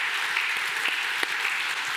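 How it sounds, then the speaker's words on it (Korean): A church congregation at Sunday worship applauds after a sung hymn, a dense, even wash of clapping that stays loud and steady throughout, with a few sharper claps standing out. "박수하겠습니다."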